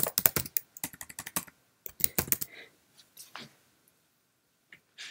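Keys on a Mac keyboard clatter in a quick burst of typing for a document title, close and crisp, with a short pause before a second run of keystrokes, then a few scattered taps trailing off into quiet.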